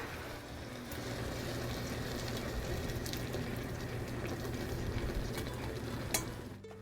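Salsa ranchera pours over fluffy cooked eggs in a pan, a steady wet sizzling rush that continues for several seconds before trailing off at the end.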